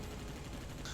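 Assault rifle fire from Earth Defense Force 2017, a steady dense rattle of shots aimed at a distant flying enemy, low and muffled under a constant noisy backdrop.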